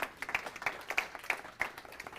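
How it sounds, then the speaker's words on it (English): Applause from a small audience at a talk on goal setting: sparse, distinct claps in an uneven rhythm, fairly faint and close, without talk. "Could we give him one more round of applause?"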